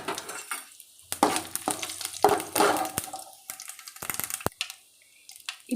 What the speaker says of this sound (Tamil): சிறிதளவு சீரகம், சிறிதளவு காஞ்ச மிளகாய், அப்புறம் வெந்தயம் இதெல்லாம் போட்டு நல்லா ஃப்ரை பண்ணிக்கலாம்.